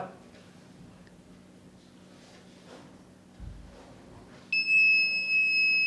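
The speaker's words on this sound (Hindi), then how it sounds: "साथ में बजर भी बीप हो रहा है" A piezo buzzer on an Arduino circuit with an MQ2 gas sensor sounds as hand sanitizer alcohol is detected: a loud, steady high-pitched beep starts abruptly near the end after a quiet stretch with faint handling sounds.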